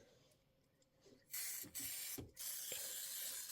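Adhesive spray for quilting applied in an embroidery hoop while piecing a block, heard as loud close aerosol hissing in three bursts with brief gaps, after a quiet start.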